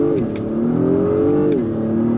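A 2022 Acura MDX Type S SUV with a turbocharged engine, 10-speed gearbox and paddle shifting pulls hard under throttle, its steady engine drone rising in pitch with two quick shift dips, loud and close from inside the cabin.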